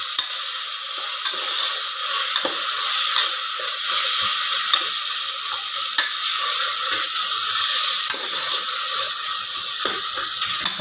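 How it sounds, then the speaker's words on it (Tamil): Tomato, onion and ginger-garlic paste sautéing in a pan for beef gravy, a steady close sizzle with bright hiss and occasional stirring scrapes, no talking. "தக்காளி, வெங்காயம், இஞ்சி பூண்டு பேஸ்ட்டு இதெல்லாம் இந்த பச்சை வாசனை போகிற வரைக்கும் நம்ம கொஞ்சம் நல்லா வதக்கி எடுக்கணுங்க"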